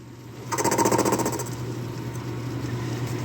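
Metal lathe taking a chamfer cut with cross feed: a loud rattling, buzzing cut begins about half a second in and eases after a second, over a steady machine hum.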